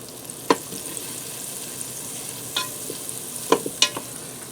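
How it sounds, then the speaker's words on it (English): Butter melting in a Ninja Foodi on sauté, a low steady sizzle with a handful of sharp spoon scrapes and clicks against the inner pot, no talk. "I'm just going to give that a quick stir to spread that around"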